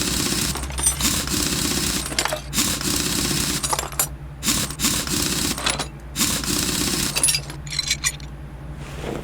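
Power tool spinning lug nuts off a wheel in Car Mechanic Simulator 2018, heard as loud whirring, rattling bursts in quick succession with brief gaps between them.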